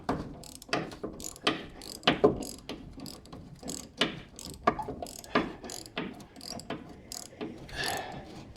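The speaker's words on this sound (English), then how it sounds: "I'm gonna have to do that by hand all the way. So I'll grab a ratchet." Hand ratchet clicking in short bursts of pawl ticks while a fitting is turned on a 1964–66 Ford Thunderbird raised on a hoist, close and moderately loud with no talking.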